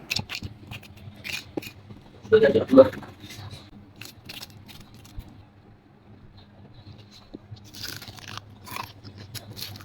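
Crispy fried chicken bitten into, giving a short cluster of sharp crunches close to the microphone around a quiet background, with a voice speaking softly nearby.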